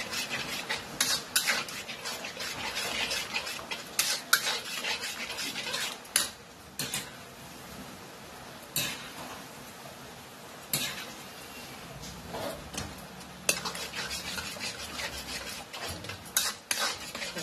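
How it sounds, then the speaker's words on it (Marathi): A spoon stirs a Veg Manchurian mixture in a bowl with repeated scraping and clinking strokes, close and steady, with a few louder knocks against the rim. "असं एकसारखं हलवा, म्हणजे हे घट्ट होत जाते."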